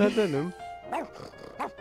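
A dog barking in The Sims video game, a few short yappy barks heard close by, mixed with people talking over it.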